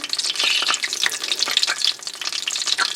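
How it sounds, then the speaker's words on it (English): A meat- and cheese-filled chimichanga fries in oil in a pan, giving a steady, close crackling sizzle with bright popping spatters throughout and no talking. "I'm literally just going to let that fry until it gets a nice golden color on the bottom"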